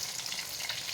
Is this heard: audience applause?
no